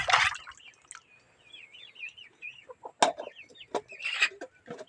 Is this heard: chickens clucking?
yes